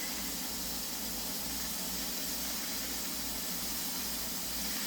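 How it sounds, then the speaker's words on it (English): Steam vents from the vent pipe of a pressure canner in a steady, even hiss, faint and continuous with no break and no voices. "allowing steam to flow from the vent pipe"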